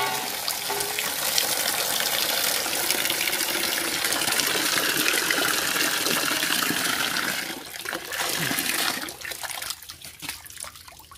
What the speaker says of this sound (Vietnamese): Chúng ta ngâm xuống nước.